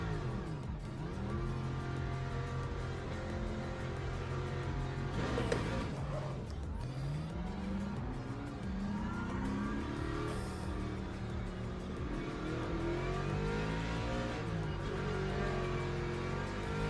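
Race car engines drone steadily as the pack rolls through a formation lap in the Le Mans Ultimate racing game, with rising and falling revs and overlapping motor tones, loud and continuous throughout.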